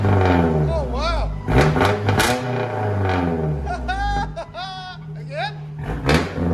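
A 1991 Nissan hardbody pickup with a Dynomax Race Bullet exhaust revs and rumbles nearby while several people talk and exclaim loudly over it.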